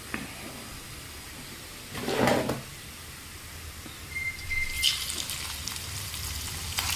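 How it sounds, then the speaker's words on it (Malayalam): Small fish go into hot oil in a pan on a stone stove, setting off two loud bursts of sizzling over a quiet, steady frying hiss. "ചൂടാകുമ്പോൾ മീൻ പറക്കി നമുക്ക് അതിലേക്ക് ഇടാം."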